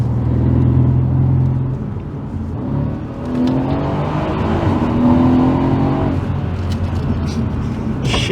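Mercedes-AMG C63 W205 with its V8 engine rumbling as it shifts up and then downshifts, the revs rising and dropping in steady sweeps, loud and close from inside the car.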